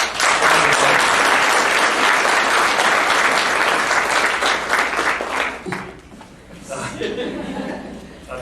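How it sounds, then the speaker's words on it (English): An audience at a 2010 senior awards day gives a sustained round of loud applause for the senior class president, which fades into scattered chuckles and murmured chatter. "one more round of applause for"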